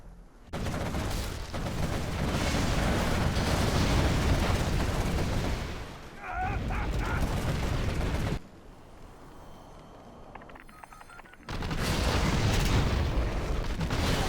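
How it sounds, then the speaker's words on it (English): Artillery explosions in a strategy video game during a 3v3 tournament match, heavy booms and crackling blasts packed densely together, then a quieter stretch before another loud burst of fire. "Double artillery again."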